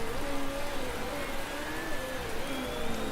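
Heavy rain falling on a race track in the video game Motorsport Manager, a dense, steady hiss of downpour with faint engine tones weaving underneath, no talk.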